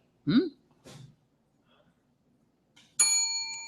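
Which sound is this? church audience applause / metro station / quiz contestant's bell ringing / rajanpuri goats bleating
quiz contestant's bell ringing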